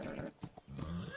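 Video game horse sounds, a faint, brief neigh with a few hoof clops, heard at low level over background game noise.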